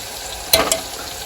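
Masala with red chili chutney and crushed cumin fries in a pan for a village-style stuffed brinjal curry, a soft background hiss broken by a short burst of sizzling scrape from a stir.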